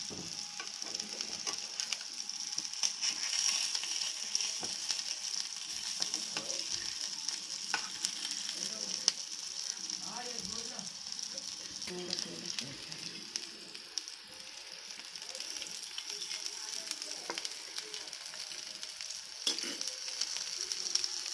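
Green chillies frying in a pan and being flipped give a steady, even sizzle that runs throughout at moderate level, with a few soft scraping touches of the spatula mixed in.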